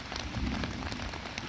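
Rain falls steadily on the Appalachian Trail, a dense, even patter of drops on surfaces close by, continuous and fairly soft, with no voices.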